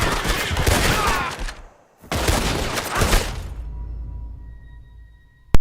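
Heavy gunfire in the video game Red Dead Redemption 2, two dense loud bursts of rapid shooting split by a brief silence, then a fading tail that ends in a sharp click.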